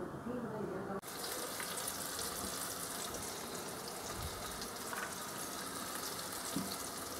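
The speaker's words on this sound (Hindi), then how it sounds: "तो अब हम सभी पॉपकॉर्न को एक एक करके इसमें डाल देंगे।" Mutton popcorn pieces dropped one by one into hot refined oil, a dense continuous bubbling sizzle that starts abruptly and holds steady.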